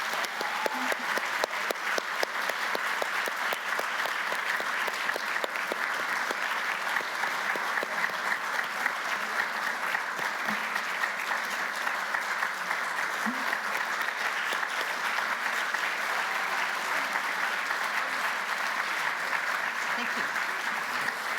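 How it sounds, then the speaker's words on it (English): Audience at a refugee association oration giving the speakers a round of applause, loud steady clapping that continues evenly for over twenty seconds, with faint voices underneath. "we'll just give the wonderful speakers another round of applause"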